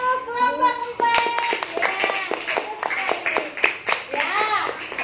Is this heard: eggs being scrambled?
no